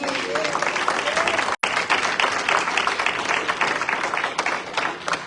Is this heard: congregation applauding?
yes